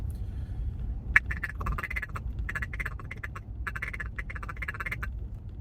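Rapid, rhythmic feeding chuckle blown on a duck call, close and fairly quiet, with quacking bursts in quick runs and short pauses, over a low background hum.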